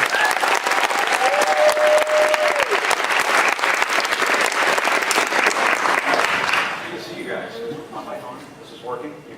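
A university audience of students applauds someone, a loud dense wash of clapping that fades down toward the end as a voice begins talking.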